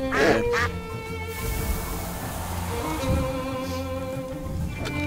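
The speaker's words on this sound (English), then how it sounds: "how did you get this convincing sound of a duck dying?" Duck dying sound from the monster-catching game Temtem, a loud strangled quack up front followed by stretched, wavering honking cries and a final squawk, set against steady game music.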